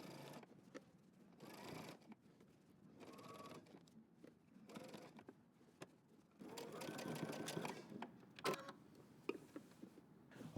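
Sewing machine stitching in the ditch along a jeans jacket collar seam, running in several separate bursts with pauses between, some overlapping faint background voices, fairly close.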